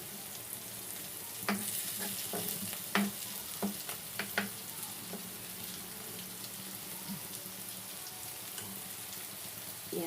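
Food sizzling and frying in a pan while being stirred and mixed, with scattered clicks and scrapes of the utensil over a steady low sizzle.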